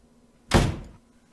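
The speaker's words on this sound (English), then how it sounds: "And now that door is closed." A door closes with a single solid thud as a sound effect, a short, fairly loud impact that fades quickly to quiet.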